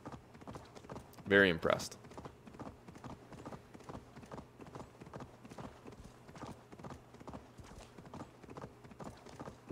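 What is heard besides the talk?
horse hooves clip-clopping in the video game Assassin's Creed Valhalla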